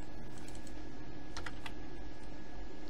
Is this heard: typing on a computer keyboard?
yes